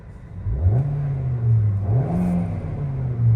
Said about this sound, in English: So let's give it a quick rev.